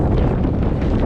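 Strong wind buffets the microphone on a farm where a bunker silo is being covered, a dense, steady roar with gusty low rumble throughout and no voices.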